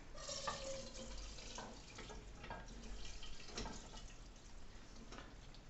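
Cooking liquid poured into a pot of Irish lamb stew to thicken the gravy, a steady close trickling and splashing with faint clinks, no talking.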